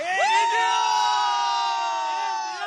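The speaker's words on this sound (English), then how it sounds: "You can see the frenzy crowd here. They are celebrating India's win." Cricket fans celebrate India's Champions Trophy win over Pakistan with a loud, sustained crowd cheer full of high whoops and shouting voices, close and continuous throughout.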